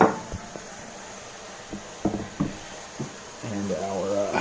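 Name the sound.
carrots and potatoes thrown into an Instant Pot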